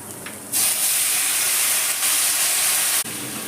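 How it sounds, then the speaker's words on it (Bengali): Water hits a hot pan of spiced potato and tomato curry for a light rui fish broth, setting off a sudden loud, steady steam hiss that holds for about two and a half seconds before briefly dropping and continuing. "এবার আমি এর মধ্যে দিয়ে দেবো জল।"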